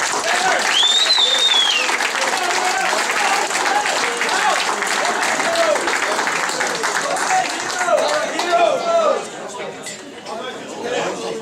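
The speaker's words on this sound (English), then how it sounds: "can we welcome and give a round of applause to the first team manager, Graham McConnell" Audience applause at a football club awards night welcoming the first team manager, a dense, continuous round of clapping from a crowded room with chatter and a few whistles, easing toward the end.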